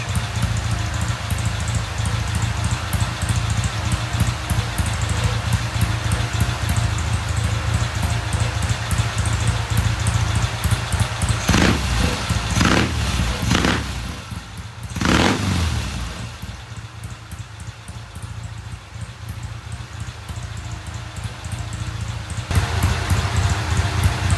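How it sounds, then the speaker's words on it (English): A 1971 Norton motorcycle idles as it warms up, a steady close rumble of the engine with a few louder sharp bursts in the middle before it settles back to an even idle. "I'm going to let the bike sit here and run for 10 minutes or so just to get it thoroughly warmed up"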